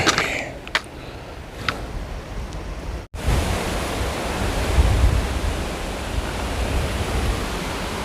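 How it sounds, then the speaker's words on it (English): Wind blows hard on a mountain section of the Appalachian Trail, a dense steady roar of rushing air that fills the scene. A loud buffeting gust breaks in partway through and keeps going. "A little breezy up here at the moment."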